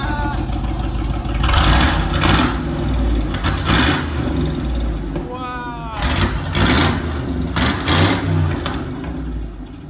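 A 1999 Ford E-250 van with a 5.4L V8 and true dual straight pipes exiting as 5-inch side pipes rumbles loudly nearby, revving in several bursts between steady idle, with a voice briefly heard over it.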